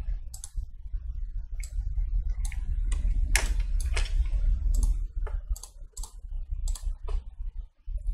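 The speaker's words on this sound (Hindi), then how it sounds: "अब आप अपने कीबोर्ड से पी प्रेस कीजिएगा" A computer keyboard and mouse in use while working in Photoshop, giving a run of sharp, close plastic clicks and key taps at an irregular pace over a low background hum, with no talking.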